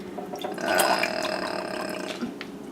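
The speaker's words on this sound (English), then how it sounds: "if I pour this in here, let's see how much grease we have" Meatloaf grease poured out of a meatloaf pan into a container, a short close liquid glug and trickle lasting a couple of seconds.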